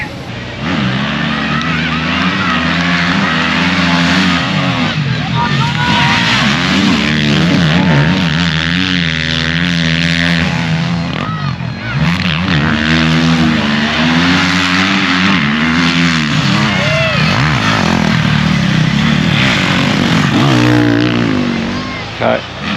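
Motorcycles roar through the grand final of a 2025 beach race at the Spoke Motorcycle Festival, engines droning and rising in pitch as bikes pass, loud and continuous, with a voice talking over them.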